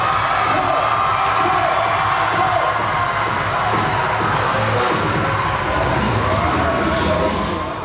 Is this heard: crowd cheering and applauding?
yes